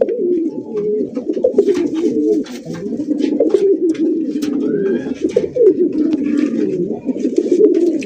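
Colored Rasgolla pigeons cooing up close, repeated soft throaty coos overlapping in a steady run, with faint background chirps.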